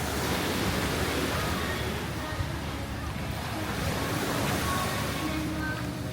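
Surf washing ashore at Ao Nang beach in Krabi, Thailand, a steady broadband roar of waves with some wind buffeting the microphone, continuous and fairly loud throughout without speech.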